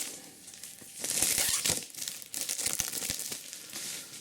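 Crinkly plastic wrapping being torn and peeled off a Horus Heresy book, close up, in a dense few seconds of rustling and crackling.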